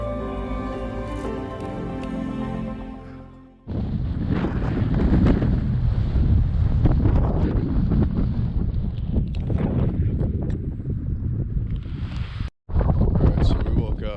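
Strong wind gusts buffet the microphone outdoors during a snowy Washington mule deer hunt, a loud continuous roar after a quieter opening, with a brief dropout near the end.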